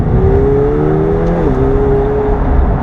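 McLaren 720S sports car pulling hard, its engine drone loud and close with a steady rising pitch, a brief shift-like dip midway, then pressing on under heavy acceleration.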